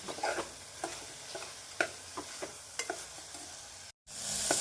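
Ground masala sautéing in a pan for a restaurant-style mushroom curry, a low steady sizzle broken by repeated scraping stirs of a spoon, close and fairly quiet with no talk.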